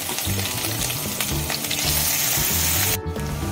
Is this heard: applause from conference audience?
no